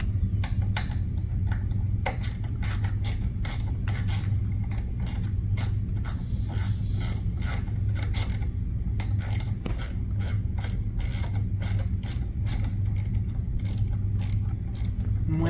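A ratchet tool cranks steadily in rapid clicking strokes while tightening a Rokblokz mud flap bracket on a Ford Bronco, close and continuous over a low background hum, with no talking.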